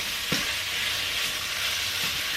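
Sausage renders and sizzles in a pan over medium heat with butter, a steady bright frying hiss throughout with a couple of soft low thumps from stirring, close and alone without talk.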